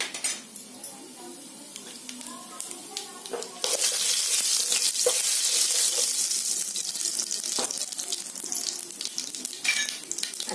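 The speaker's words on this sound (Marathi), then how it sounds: "आता तेल तापलंय त्याच्यामध्ये जिरं टाकते." Cumin seeds drop into hot oil in a kadhai, sharp bright sizzling that bursts up loudly and keeps crackling, with clinks of utensils and pan before it.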